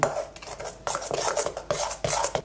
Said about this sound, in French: Je prends juste une pincée de colorant et je mélange.